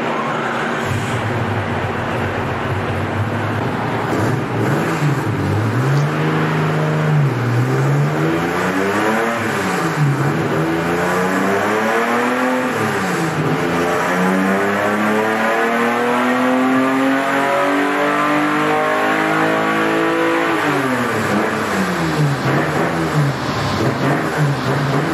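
A 400 hp Chevrolet Opala engine on a dynamometer, revving loudly and continuously in repeated rising and falling sweeps through the gears, close and dominant with no voices.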